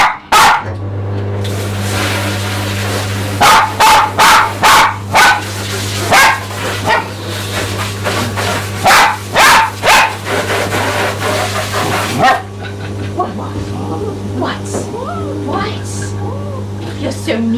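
A dog being groomed barks repeatedly in sharp bursts, clustered through the first half and then sporadic, close and loud, with a person talking and a steady hum of grooming equipment beneath.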